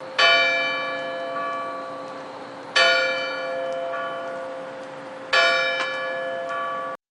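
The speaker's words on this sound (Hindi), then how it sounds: "तभी एक बड़ी घड़ी की घंटी बजी।" A large clock bell in an old mansion tolls three times at a slow, even pace, each deep ringing strike fading gradually before the next.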